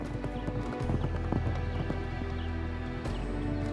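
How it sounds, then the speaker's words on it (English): A herd of wild horses on open rangeland, with hooves clip-clopping steadily and close by, a brief whinny among them, over a constant outdoor rumble. "there are few images as stirring as a herd of wild horses roaming the rangeland"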